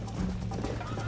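Horse hooves clop steadily in the Red Dead Redemption video game, a quiet, continuous rhythm of hoofbeats with no talk over it.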